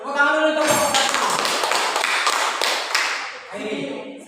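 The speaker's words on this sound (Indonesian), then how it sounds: "Tepuk tangan dulu untuk kelompok" A classroom group gets applause from students, a dense burst of hand claps lasting a few seconds, tapering off near the end.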